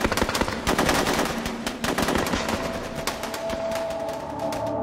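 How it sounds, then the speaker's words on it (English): Rapid machine gun bursts as Viet Minh guerrillas open fire through the windows of a compound, loud sharp rattling volleys that tail off into a lingering tone. "Viet Minh guerrillas who had crept silently into the compound opened fire through the windows."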